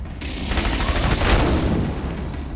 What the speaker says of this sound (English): Tommy gun, bitch! Tommy gun and body armor!